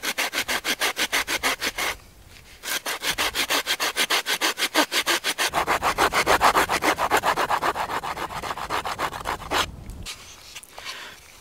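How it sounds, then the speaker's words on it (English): Hand saw cutting a stop notch into a piece of wood, a steady run of rapid back-and-forth strokes, loud and close, broken by a few short pauses with no talking. "create another stop notch with our saw"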